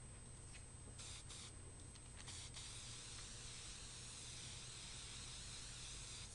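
An aerosol can of toner aid hisses in a continuous spray onto laser vellum for screen printing, with a few short sputtering bursts at first, then a long steady hiss.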